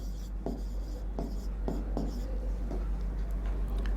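Scratchy pen or chalk strokes during a chemistry lesson, written in short separate bursts close to the mic over a steady low hum.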